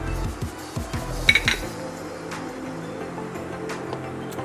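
Boiled cowpeas and white chickpeas going into a salad bowl, heard as a quick run of clinks and knocks of a spoon against the bowl, then quieter, close and without talk.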